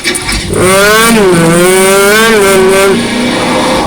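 A car engine in the video game Garry's Mod roars loud and close, revving up and holding a high, wavering pitch before easing off.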